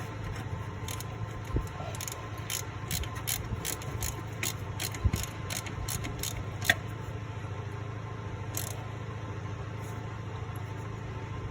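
A hand ratchet clicks in quick repeated strokes while tightening bolts on a Honda Element alternator, close and crisp over a low steady background hum, the clicking bursts stopping partway before a few isolated clanks.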